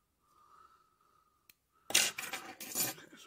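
Faint snipping and rustling, followed by a burst of louder crisp cutting and rubbing sounds close by as fairly blunt scissors cut fly-tying material; no voices.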